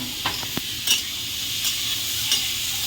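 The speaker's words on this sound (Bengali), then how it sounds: "এবার আমি ভালো করে ভেজে নেবো" Green chillies fry in a pan with a steady close sizzle, broken by a few sharp scrapes and taps of a spatula stirring, no voices present.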